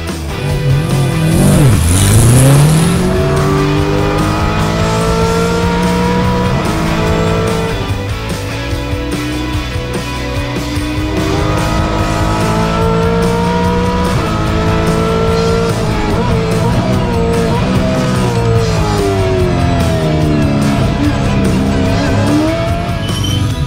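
Tickford Ford Mustang Supercar laps a race track, its engine roaring loud and close throughout, pitch rising and falling through gear changes, with tyre squeal in the corners and no talking.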